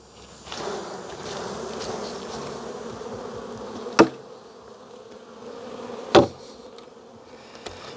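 Honeybees hum steadily inside an opened hive with pollen-filled comb, a dense, close drone holding throughout, broken by two sharp knocks.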